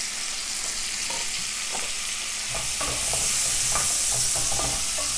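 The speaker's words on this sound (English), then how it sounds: "it's gonna sizzle when it goes in here" Onions and carrots sizzle in bacon grease, a steady frying hiss that swells louder midway, with scattered clinks and stirring scrapes and no talking.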